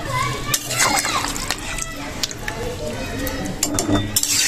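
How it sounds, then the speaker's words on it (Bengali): Water poured into a pot of fish curry with potatoes and taro, a sloshing, splashing pour with clinks of utensils, while children's voices and talk are heard in the background. "আমি এবারে দিয়ে দেবো জল।"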